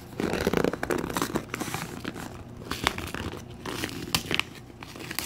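Packing tape being peeled and torn off an anime package: loud, close ripping and crinkling in quick repeated bursts, with no talking.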